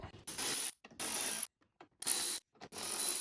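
Ratchet clicking steadily while removing T30 bolts from the front bumper of a BMW 135i E82, in four loud bursts of rapid ratcheting separated by short pauses, close up with no talk.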